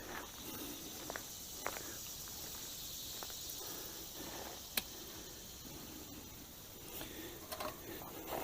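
Cicadas and other insects buzz outdoors in a steady, faint high-pitched drone, with a few soft clicks and rustles scattered through it.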